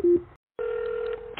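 A telephone dials with a short tone beep, falls silent, then a long steady ringback tone sounds alone, close and clear.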